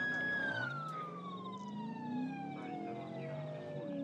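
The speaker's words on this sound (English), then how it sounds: "I don't need my sirens on if he has his on." A police car siren in a Roblox video game wails continuously, its pitch sliding slowly downward, heard close and steady with no other sounds over it.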